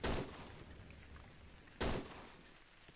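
Two sharp bursts of gunfire in a horror video game, each a loud crack followed by a short decaying rumble, spaced about two seconds apart with faint clicks between.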